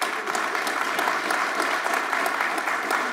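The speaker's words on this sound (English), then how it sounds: "But don't get too used to the applause, Bridget" Audience applause fills a law conference panel session, steady clapping from a crowd sustained throughout without any talk over it.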